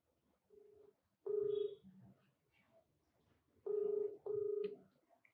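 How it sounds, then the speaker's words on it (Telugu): A telephone call is dialed and then rings: short electronic tones and beeps come in bursts, with two louder tonal pulses near the start and a matching pair later. The sound is quiet and clear, and no one speaks. "ఒకసారి మరి కాల్ చేయమంటారు?"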